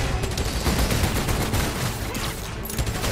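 Continuous loud gunfire during a shootout in Marvel's Spider-Man: Miles Morales: dense automatic bursts overlap without pause, close and heavy, across the whole stretch.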